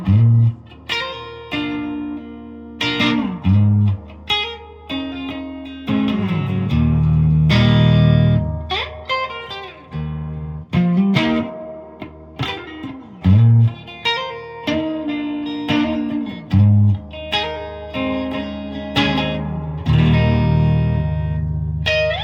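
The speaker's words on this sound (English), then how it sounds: "here's a little demo of the clean channel on the amp. And the neck position" Electric guitar played through the clean channel of an amp on the neck pickup, warm chords and single notes ringing out with a wide, washy reverb tail, loud and close, no voices.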